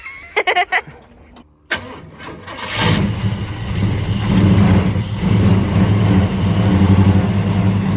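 A big block El Camino engine, primed with a splash of fuel, gives a few short cranking bursts, then catches and settles into a loud, rough, rumbling run.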